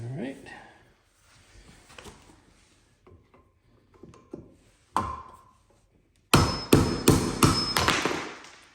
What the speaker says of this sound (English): So we're going to remove this plug with a chisel and a hammer.